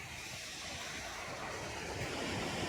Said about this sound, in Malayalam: ഇത് ആദ്യത്തെ ഒരു കുഞ്ഞു വെള്ളച്ചാട്ടമാണ്